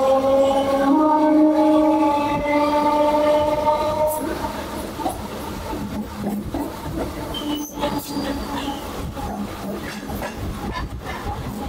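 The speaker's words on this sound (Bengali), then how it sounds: "আমাদের এখানে সাঁতরাগাছি থেকে ট্রেন বেরিয়ে লাইনটা আলাদা হচ্ছে" A local train on the Howrah–Amta line pulls out of Santragachi. Loud wheel squeals ring out at first, then give way to a steady rumble and rattle of the coaches rolling along close by.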